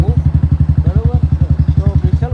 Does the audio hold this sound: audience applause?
no